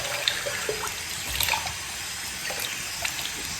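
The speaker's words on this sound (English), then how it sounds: "I want to get some fresh water, rinse my face" Fresh tap water runs steadily into a sink for rinsing the face after a straight razor shave, a soft continuous trickle and splash with a few small spikes, fairly faint and with no talking.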